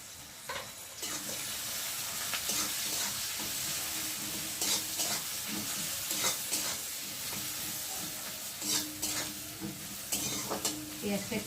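Chopped onion and green chilies frying in a pan with whole chicken spices like cardamom and cinnamon, a soft steady sizzle punctuated by repeated spatula stirring and scraping, close by.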